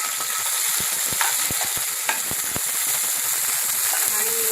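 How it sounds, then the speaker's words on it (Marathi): Capsicum frying in about two tablespoons of hot oil in a pan on a gas stove, a steady close sizzle with scattered crackles and pops throughout. "तेल गरम झालंय, आता मी त्याच्यामध्ये शिमला मिरची टाकते"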